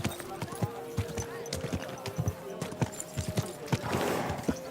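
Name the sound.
horse hooves galloping in video game Kingdom Come: Deliverance II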